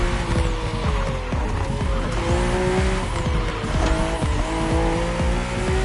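Race cars, M2s and M4s, tearing along a narrow, twisting track in The Crew Motorfest, engines roaring steadily with gear shifts and tire squeal, several cars close together, no talking.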